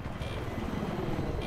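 An enemy helicopter in a video game gives a steady, low rotor drone, continuous and unvarying throughout, at moderate level with no voices.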